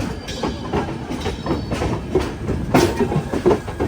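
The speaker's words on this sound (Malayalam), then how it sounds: "ഇത് ലോകമാന്യത്തിൽ നിന്ന് പുരിയിലേക്ക് പോകുന്ന ഒരു എക്സ്പ്രസ് ആണ്" An express train running from Lokmanya Tilak to Puri rolls past at a diamond crossing, a steady broad rumble with rhythmic wheel clatter and a sharper burst of clacks near the end, heard close and continuous with no voices.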